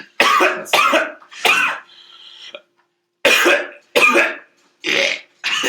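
Several harsh, loud coughs burst right against the microphone in two clusters, with a short pause between them.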